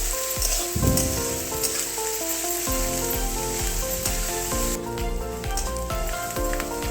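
Onions fry in a pan with ginger garlic paste for chicken curry, a steady close sizzle and crackle broken by occasional scraping and stirring clanks, with no one talking.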